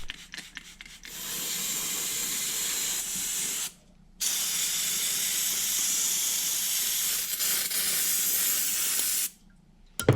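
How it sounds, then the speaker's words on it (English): Contact cleaner sprayed from an aerosol can onto the metal of an outboard motor, a loud steady hiss running in two long bursts broken by a short pause, close to the microphone. "A little bit of contact cleaner on my metal here."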